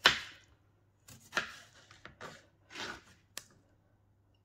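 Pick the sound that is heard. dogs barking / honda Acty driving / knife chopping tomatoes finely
knife chopping tomatoes finely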